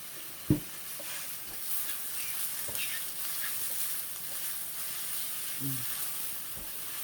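Blanched shiitake mushrooms stir-fry in a pan with a little oil, a soft steady sizzle broken by a few sharp clicks of a utensil against the pan.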